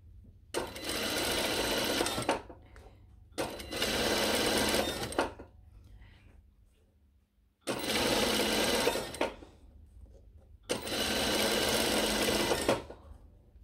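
A sewing machine stitches a viscose-linen shirt seam under the arm, running in four steady bursts of about two seconds each, close and clear, with short quiet pauses between runs for the backstitch at start and end.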